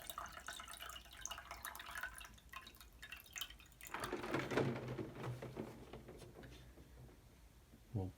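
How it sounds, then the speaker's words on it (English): Ice cold water poured into a measuring cup for a cold water experiment, a faint trickling and dripping pour that swells in the middle and carries on steadily to the end. "I'm going to begin pouring ice cold water and measuring it out to give us 1 cup worth of water"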